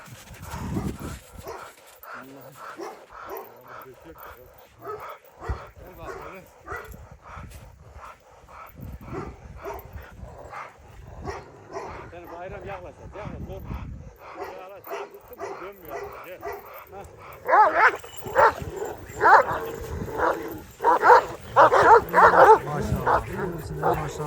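Kangal breeding dogs barking in repeated bursts, with yips and whimpers mixed in. The barking turns louder and denser toward the end, and someone talks over it throughout.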